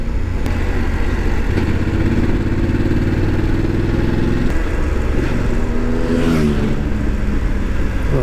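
A BMW F 850 GS motorcycle engine drones loud and steady while riding on the road, with a low rumble that shifts pitch as it revs up and eases off, and no talk over it.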